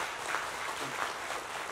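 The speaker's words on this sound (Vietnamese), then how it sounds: "xin hội trường hãy nổ một tràng pháo tay thật lớn để chào mừng sự kiện đặc biệt ngày hôm nay của chúng ta" A hall audience at a school alumni reunion event applauds steadily, with dense sustained clapping filling the room and no voices over it.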